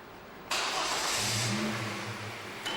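A vehicle engine at a vehicle testing station starts abruptly with a loud cranking burst, then settles into a steady, close mid-pitched running drone, with a brief fresh surge near the end.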